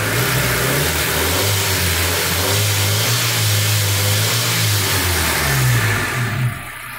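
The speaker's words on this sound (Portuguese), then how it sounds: "Motorzinho." Engine of a 2000 Honda Civic with an intermittent misfire, running steadily close to the microphone with a continuous hum and slight rises in revs, with no talking.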